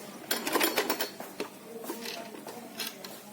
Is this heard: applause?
no